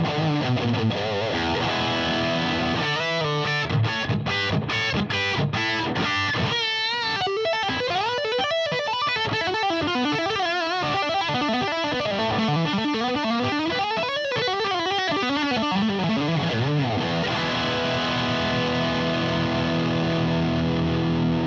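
Electric guitar played through an MXR 5150 Overdrive pedal with the gain raised, giving a thick, heavily distorted tone of chugging chords and sustained bent lead notes, loud and continuous with no talking.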